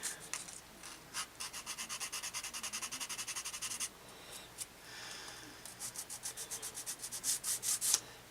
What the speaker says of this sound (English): Take a sanding stick here and